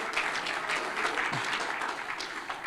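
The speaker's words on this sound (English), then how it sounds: "Please clap for Cape Verde." Conference attendees clap for Cape Verde, a short run of steady, moderately loud applause from a seated audience with no speech over it.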